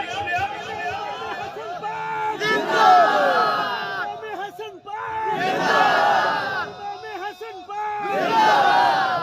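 A large crowd at a religious gathering shouts a slogan honouring Imam Hasan in call-and-response waves, three loud surging chants separated by brief lulls, voices massed and echoing.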